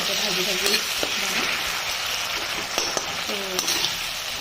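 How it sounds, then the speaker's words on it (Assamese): Tomato, potato, carrot and onion sizzle steadily in hot oil in a home kitchen, a continuous crackling fry with occasional clinks and scrapes of a stirring utensil, and a voice heard faintly over it. "এয়া বিলাহী আলু গাজৰ পিয়াজ দি এইখিনি ভাজি লৈছোঁ"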